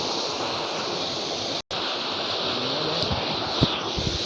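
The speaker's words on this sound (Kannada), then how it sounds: "ಮೇಲಿಂದ ಬಂದು ಇಲ್ಲಿಂದ ಇಷ್ಟು ನೀರು ಬೀಳ್ತದೆ" Steady, dense rush of water falling from a hillside waterfall between Agumbe and Sringeri fills the whole stretch, a constant roaring wash with a brief dropout near the middle.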